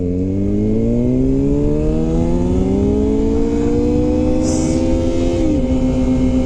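A loud motorcycle engine drones steadily, its pitch slowly rising as it revs, then settling lower near the end; a harsh, continuous exhaust roar close by.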